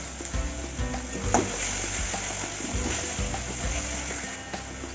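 Spice paste with salt and turmeric frying in a pan for potol kofta kalia, a steady broadband sizzle with intermittent stirring scrapes, close and moderately loud throughout.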